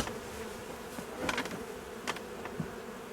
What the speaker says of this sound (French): Donc là on voit les abeilles